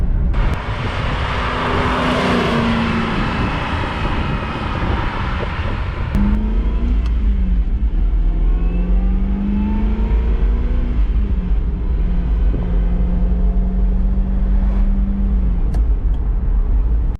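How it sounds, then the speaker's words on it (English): A Lamborghini Jalpa's growly exhaust note rises as it accelerates, loud and close, the engine pitch climbing steadily with no talking. "you have got to love that exhaust note. It's very growly, distinct, and has character to it."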